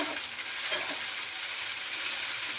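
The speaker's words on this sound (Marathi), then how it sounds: "तीळ आणि कोथिंबीर टाकते, कारण तीळ उडतात" Sesame seeds and coriander splutter and crackle in hot oil in a pan, a steady close sizzle with scattered pops throughout.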